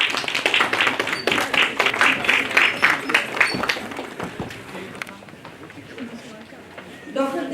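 An audience at a national conference in Meerut claps briskly with sharp individual hand claps. The applause thins after about four seconds as voices and room noise take over.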